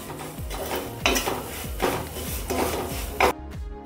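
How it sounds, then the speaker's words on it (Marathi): Semolina roasts in ghee over a very low flame, with a spoon scraping and stirring in a steady rhythm of about five strokes over a faint sizzle. "याच्यात घालूया रवा आणि हा एकदम मंद गॅसवर आपल्याला छान भाजून घ्यायचा आहे"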